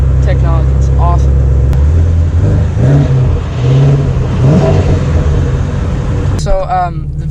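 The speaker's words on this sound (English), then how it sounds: "So loud inside. 526 horsepower, naturally aspirated V8." A naturally aspirated V8 in a Shelby GT350 revs loudly from inside the cabin, a steady roar that rises and falls in a few surges while someone talks over it.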